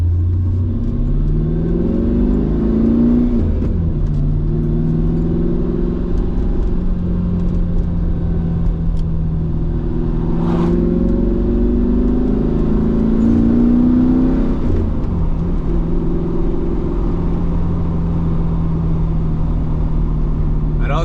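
M113 armored vehicle engine running while driving, a loud low rumbling drone with rising and falling revs and whirring tones, steady and close throughout, with someone talking over it.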